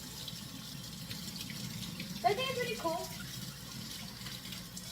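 Tap water runs steadily into a sink while dishes are washed by hand, a continuous hiss with a brief splashy burst midway, heard under someone talking.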